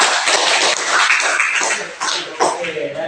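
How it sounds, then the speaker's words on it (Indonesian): A classroom of students claps for a student group, a short burst of brisk, fairly close applause with scattered individual claps and a faint voice mixed in. "berikan tepuk tangan untuk kelompok"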